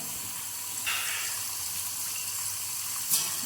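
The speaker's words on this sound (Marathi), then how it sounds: "पाणी ॲड करूया." Water is poured into a pan of Undhiyu vegetables cooking under a lid, a faint, steady hissing gush with a couple of brief splashy bursts and no talk.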